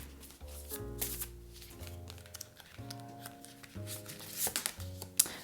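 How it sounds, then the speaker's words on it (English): Goddess oracle cards being shuffled and handled, a run of soft riffling flicks and papery taps in uneven bursts, close and clear with no voice over it. "I just want to go ahead and pull a goddess card for you."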